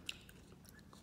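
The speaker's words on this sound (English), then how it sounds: "Cassava chip. They're really crispy and crunchy." Crisp cassava chips crunched and chewed close to the mic, a short burst of faint crackling bites in a quiet room, with no talking.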